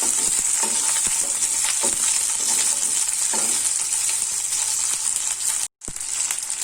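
Small onions sautéing in a pan of oil for a garlic kuzhambu, with a loud, continuous close sizzle broken by occasional stirring scrapes and a brief dropout near the end.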